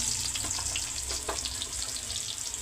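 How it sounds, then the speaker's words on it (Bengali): Chopped onion frying in mustard oil in a pan gives a steady, close crackling sizzle throughout, with no voices. "এই যে এখন এখানে সরিষার তেল দিয়ে দিছি, পেঁয়াজ কুচি।"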